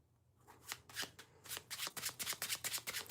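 Playing cards shuffled by hand in a run of crisp, papery riffle bursts after a brief quiet start, repeating quickly and steadily, close and clear with no talk.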